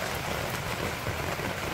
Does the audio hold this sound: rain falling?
yes